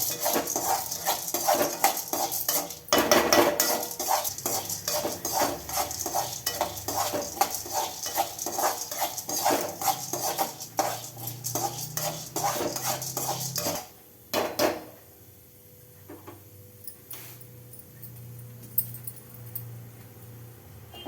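Lentils are dry-roasted in a metal pan, stirred with a rapid run of loud clinking, scraping spoon strokes that stop abruptly, leaving a faint low hiss with a few scattered taps.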